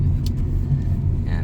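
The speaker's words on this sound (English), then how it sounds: "So you have the raw experience of driving in the snow in the 1998 Acura Integra GS-R." A 1998 Acura Integra GS-R, front-wheel drive, rolls through snow with a steady low road rumble filling the cabin, a brief hiss at the start and a faint tone near the end.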